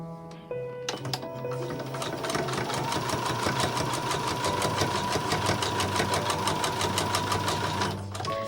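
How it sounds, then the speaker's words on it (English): Sewing machine stitching through a Bargello rainbow quilt, running as a steady rapid mechanical hum and rattle for most of the clip, then stopping near the end. "So when my sewing machine needle gets to that pin, I'm going to stop"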